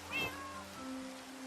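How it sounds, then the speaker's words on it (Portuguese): Cat meowing sounds from cat boots worn in Minecraft when the player is hit, a single clear meow rising and falling near the start, then fading into a steady low tone. "Y cuando te pegan hacen como gatos."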